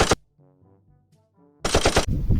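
Toy gun fires, with a sharp crack at the start and a dense rapid burst of shots near the end, separated by a short quiet stretch of faint electronic tones.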